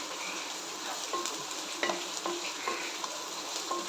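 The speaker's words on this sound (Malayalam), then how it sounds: "സവാളയൊക്കെ നന്നായി വഴന്ന് വന്നിട്ടുണ്ട് നമുക്ക് ഇച്ചിരി പൊടി ഇട്ട് കൊടുക്കാം" Spice powders stirred into sautéing onions in a pan, a steady soft sizzle with repeated light scrapes and taps of a spoon against the pan, close and alone.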